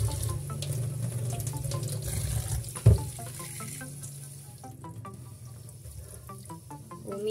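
Raw chicken being rinsed under a running tap, a steady stream of water splashing into a sink with scattered drips and clinks and one sharp knock partway through.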